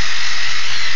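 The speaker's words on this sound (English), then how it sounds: "I've got an electric toothbrush. So I'll just kind of turn that on and kind of work it in there." An electric toothbrush switched on while brushing teeth with ketchup, a steady high buzzing whine held at even, loud strength and close to the mouth, running alone without talk.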